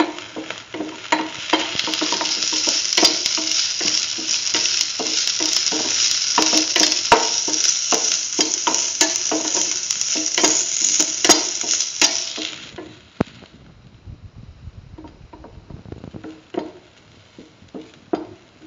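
Ginger sizzles and fries in hot oil while being stirred in a stir fry with lentils and scrambled egg, a steady loud hiss with scraping stirring strokes that cuts off abruptly, leaving quieter clatter.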